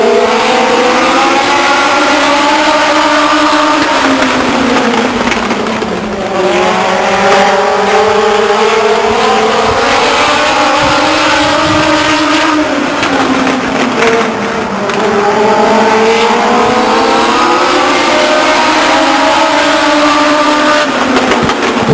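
Race cars at Stockton 99 Speedway roar loudly and continuously into turn 3, engines rising and falling in pitch as they pass close, with no talking.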